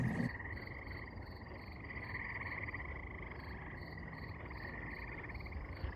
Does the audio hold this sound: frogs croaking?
yes